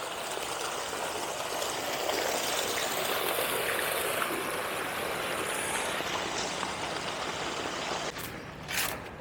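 Floodwater pumped from a pond rushing and babbling steadily down a small stream, a continuous close hiss of flowing water with no speech.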